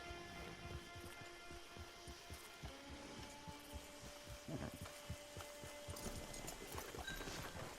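A horse in the video game Red Dead Redemption 2 clip-clops with a steady, even rhythm of hoofbeats under soft ambient music and wind.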